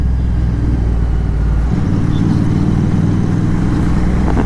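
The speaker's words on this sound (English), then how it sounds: "So we have a Apache, definitely 310R." A TVS Apache RTR 310R motorcycle engine hums at close range, loud and steady, with a low drone that shifts pitch partway through, heard on a rainy night ride.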